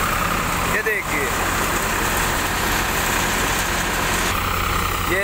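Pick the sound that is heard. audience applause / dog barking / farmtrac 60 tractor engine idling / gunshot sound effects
farmtrac 60 tractor engine idling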